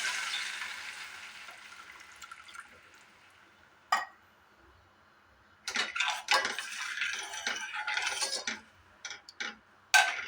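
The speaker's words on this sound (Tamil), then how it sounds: "இப்போ தண்ணி ஊற்றிக்கலாம். எவ்வளோ வேணுமோ அது தண்ணி ஊற்றிக்கலாம்" Water splashes and pours steadily into a pan of sautéed onions and chillies at first, fades, then returns in bursts with scattered clinks near the end.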